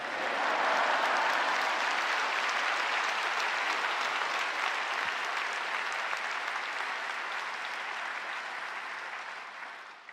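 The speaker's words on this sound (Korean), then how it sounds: "하나님께 영광을 박수로 맞이하겠습니다." A church congregation at a Friday evening service applauds to welcome a speaker to the stage, a broad, sustained clapping from a large crowd that holds for about ten seconds before gradually easing off.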